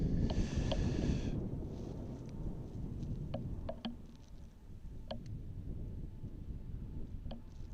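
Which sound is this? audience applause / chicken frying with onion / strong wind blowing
strong wind blowing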